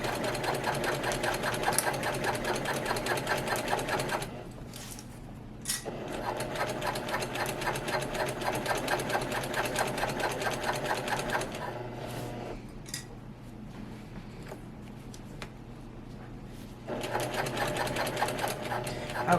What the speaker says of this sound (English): So I'm going to go forward a couple stitches, then backwards a couple stitches, and that suffices for backstitching.